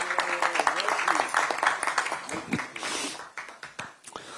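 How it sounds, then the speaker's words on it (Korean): Crowd applause at a Korean Democratic Party election committee launch event, uneven clapping from many hands with some louder individual claps, heard beneath and between voices in a hall. "우리 안선아님에게도 큰 박수를 부탁드리겠습니다"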